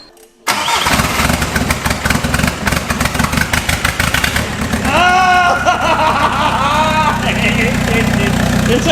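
A 1.9 TDI diesel car engine cranks and catches, then settles into a steady, loud idle close by, while people talk over it.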